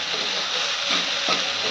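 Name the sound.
moringa leaves frying in a pan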